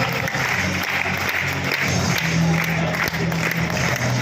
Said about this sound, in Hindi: जोरदार तालियां चेयरमैन साहब के साथ